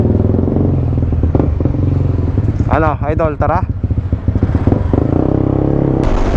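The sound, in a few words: CB150X motorcycle riding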